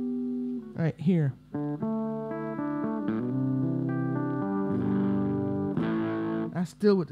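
Distorted electric guitar notes and chords from a Gibson Les Paul Junior, played close and loud, sustained tones with a few sliding bends and short breaks, no voices.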